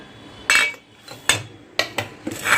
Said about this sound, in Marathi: तर अंडी चांगली आपण फोडून घेऊया.